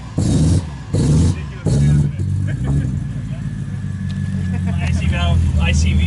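A V8-swapped BMW E30 idles cold with a sticking ICV valve, giving a loud, steady, slightly uneven low rumble up close while people talk over it.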